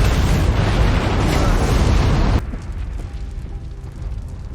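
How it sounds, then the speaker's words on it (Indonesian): A grenade explosion in an action film with Sylvester Stallone: a loud, dense roaring blast that holds steady, then cuts abruptly to a quieter rumbling aftermath with faint background sound. "salah satu anak buah Orlin melempar sebuah granat hingga meledak"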